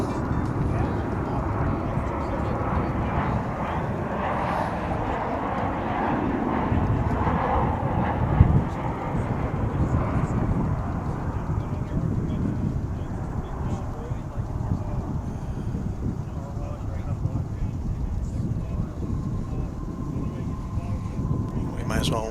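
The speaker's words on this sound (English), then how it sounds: "they're about to be overflown by American Flight 2722, it's a 737-800 coming in from Reno" American Airlines Boeing 737-800 inbound from Reno landing overhead at DFW International Airport, a broad continuous jet roar passing over with wind buffeting the microphone.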